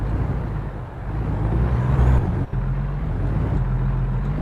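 A truck engine idles and runs in American Truck Simulator, a steady low diesel rumble with a brief dip partway through before it carries on evenly.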